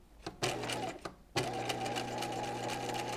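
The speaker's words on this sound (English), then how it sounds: "And we're stitching right next to that fold." A sewing machine stitches beside the fold of an apron dress, running in short bursts with brief pauses before settling into a steady, even whir, close and quiet.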